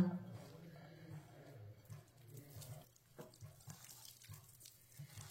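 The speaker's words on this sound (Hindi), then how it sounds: "अब इसमें थोड़ा सा पानी डालेंगे।" Water trickling from a tap into a bowl of raw potato tikki batter, a soft, faint running and splashing sound with small drips, heard close and continuous at low volume.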